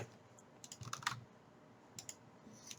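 Light typing on a computer keyboard in a code editor: a few quick clusters of soft key clicks separated by short pauses, close and quiet in a still room.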